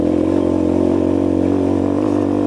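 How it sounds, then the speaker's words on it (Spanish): A Fratelli Xe 125 motorcycle engine hums steadily at close range while riding downhill on a dirt track, a low continuous drone with faint rattling and no voices. "la motocicleta da más power"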